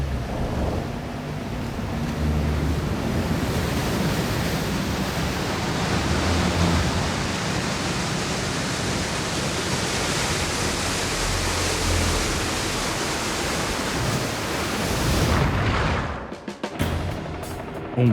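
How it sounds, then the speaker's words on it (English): A wall of seawater engulfs a sinking aircraft carrier, the Mighty O, as a dense, continuous roar of rushing water and surf that holds steady and then breaks off abruptly near the end. "a wall of water engulfs the ship."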